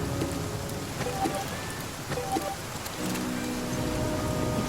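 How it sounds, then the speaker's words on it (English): Rain pouring in the survival game The Flame in the Flood, a dense continuous hiss of falling water with faint scattered drips, steady and enveloping throughout. "Quick, it's raining."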